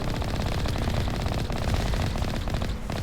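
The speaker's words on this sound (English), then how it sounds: "Who try their best to shoot my vehicle with snipers" Rapid automatic gunfire from mercenaries firing on a vehicle in Mass Effect, a dense, loud, continuous rattle of shots lasting throughout with no pauses.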